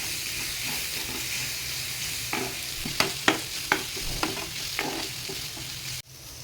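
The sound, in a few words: stirring food in a pot for veg thali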